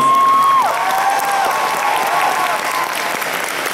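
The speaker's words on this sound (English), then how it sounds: "Once again, give them a huge round of applause." Convention audience at an anime convention closing ceremony giving a loud, sustained round of applause for staff and volunteers, dense clapping with a faint cheer and a brief tone at the start.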